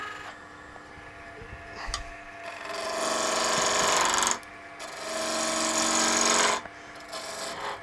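On a wood lathe, a tool cuts a spinning darning mushroom blank to round, giving two bursts of loud, steady scraping and rasping that stop abruptly, over a background machine hum.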